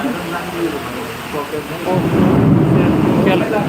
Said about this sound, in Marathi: जोरदार वादळी वारं सुटलेले आहे